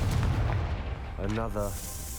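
Confringo blasting spell from Hogwarts Legacy: a dense low rumble of fiery blasts, with a short voiced magical whoosh partway through, loud and close throughout.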